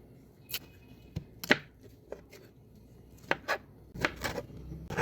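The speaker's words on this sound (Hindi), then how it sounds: "बारीक बारीक कटाई कर लेंगे टमाटर की।" A knife chops tomatoes finely on a board for aloo katli, landing in sharp, irregular cuts that stand out clearly against a quiet kitchen background.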